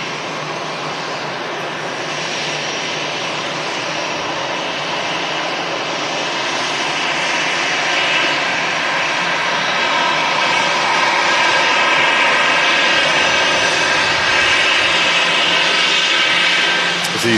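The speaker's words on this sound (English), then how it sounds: "EasyJet in from Amsterdam." An EasyJet airliner arriving from Amsterdam at Manchester Airport produces a steady, broad jet-engine roar that swells slowly over many seconds, heard from a distance without any speech.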